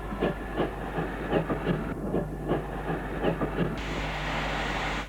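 A 1949 Hawksworth 0-6-0 pannier tank steam locomotive at Paddington station, heard as a steady rumble of wheels and rail clatter with rhythmic knocks, then a sustained steam hiss rising over the last second or so, close and fairly loud.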